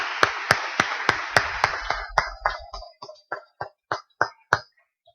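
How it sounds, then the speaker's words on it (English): A small audience gives a round of applause for the speakers at a speech event. The claps start as a dense, close patter, then thin out to a handful of separate, sharp claps that stop after about five seconds. "Can we give them one last huge round of applause?"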